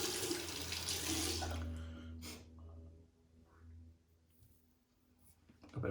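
Tap water runs into a sink as shaving lather is rinsed off, loud for the first two seconds, then fading to quiet trickles and faint splashes.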